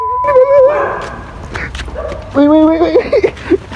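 Dogs close by bark, yip and whine in short, loud bursts, with a person's voice mixed in among them.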